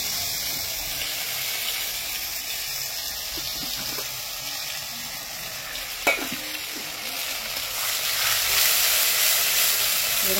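Spice paste hits very hot oil with bay leaves in a pan, giving a steady frying sizzle with stirring, one sharp clink partway through, and the sizzle growing louder toward the end.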